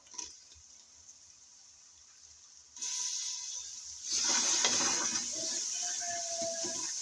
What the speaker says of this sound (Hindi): हल्का सा मैं डाल दूंगी पानी